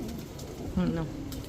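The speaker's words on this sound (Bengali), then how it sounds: "খুব সুন্দর একটা মাদি কবুতর" A female breeding pigeon gives a short low coo amid steady background noise in a pigeon market, a single brief call near the middle.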